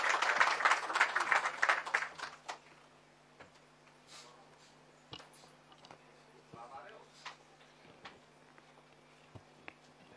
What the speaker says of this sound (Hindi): तालियों की गड़गड़ाहट के साथ सर का स्वागत करें।